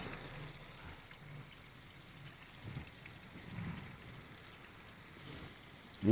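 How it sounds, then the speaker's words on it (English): A small waterfall flows in a steady, soft wash of falling water, faint and continuous throughout with no voices. "Another little waterfall."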